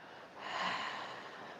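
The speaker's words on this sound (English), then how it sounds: "Breathing out that hot air." A long, breathy open-mouthed exhale in ujjayi pranayama, like fogging a mirror, rising and fading over under two seconds, soft and close with no talking.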